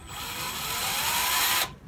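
A power drill whirs briefly through PVC pipe, a steady high whine for under two seconds that cuts off abruptly.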